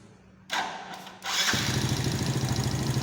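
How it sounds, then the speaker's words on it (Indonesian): A motorcycle engine cranks and fires up, then settles into a steady, close idle with a rhythmic putter, ready for carburetor adjustment. "Untuk nyetel karburator kita hidupkan mesin dulu"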